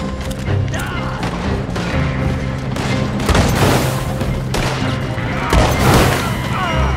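Incendiary rounds fired in the video game Red Dead Redemption 2 land as loud, heavy booming shots in dense bursts over a sustained tonal backdrop.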